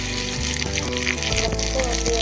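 Garlic and mustard seeds frying in hot oil for a chutney, a steady, dense sizzle that carries loud and unbroken from start to end, with no speech.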